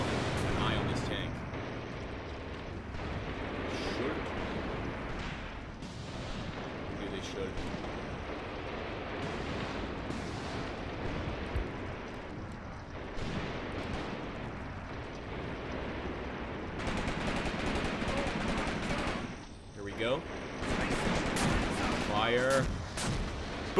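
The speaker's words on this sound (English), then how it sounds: "that artillery is coming in very heavy and very hard" Heavy artillery fire in the Graviteam Tactics wargame, with continuous dense booms and rumbling blasts under a voice talking throughout, growing louder toward the end.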